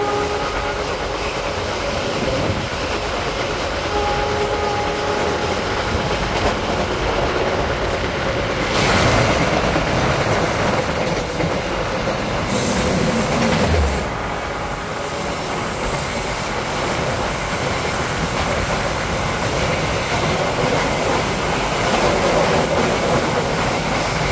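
Passenger train passing on a curving railway line near Lengkung, with a loud, continuous rolling rumble of wagons and faint clickety-clack that swells briefly midway, heard close and without talk.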